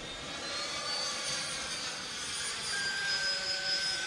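A Freewing F-15 RC jet with a 90mm electric ducted fan climbing at full throttle, giving a sustained airy whine with rising high tones that hold steady and fairly loud over open-air background.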